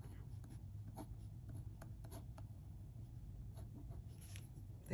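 Pen scratching across paper in a home coloring space, soft continuous strokes with small ticks and lifts, close and quiet over a low steady hum.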